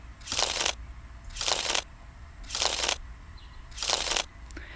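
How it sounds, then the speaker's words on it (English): A deck of oracle cards is riffled four times in an even rhythm, each crisp burst of shuffling separated by a short quiet pause, close and fairly soft. "What I'm going to do is just shuffle a few times."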